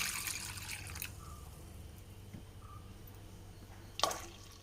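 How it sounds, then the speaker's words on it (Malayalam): Water is poured into a simmering Kerala-style fish curry, a soft splashing wash at the start with a brief second pour near the end, faint and close, with no talking. "ഇനി വെള്ളം ഒഴിച്ചു കൊടുക്കണം കേട്ടോ"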